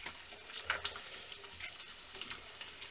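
Finely chopped onion frying in a pan on low heat for spinach gravy, a steady close sizzle with crackling bursts and faint stirring scrapes throughout, no voices.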